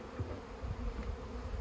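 Bees buzz around a hive during installation, a soft, close droning hum that swells and fades in small pulses, with no talking.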